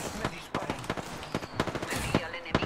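Rapid gunfire from an Apex Legends firefight, bursts of sharp shots crackling in quick irregular clusters alongside a voice talking throughout.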